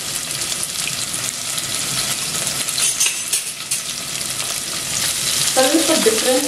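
Onions sizzling and frying steadily in a hot pan, a dense continuous crackle with occasional stirring, close and fairly loud, with a brief clink of utensils near the end.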